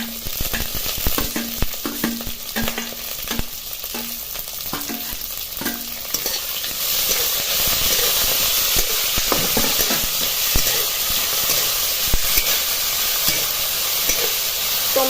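Chopped tomatoes stirred in a hot oiled pan for a quick soybean tiffin dish: irregular spoon clicks and scrapes at first, then a loud, continuous sizzle that swells and carries on to the end.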